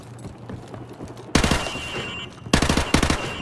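Gunfire at targets in Modern Warfare Remastered's training prologue, two loud close bursts of rapid shots that cut in sharply after a quiet ambient lull, the second burst rattling on to the end.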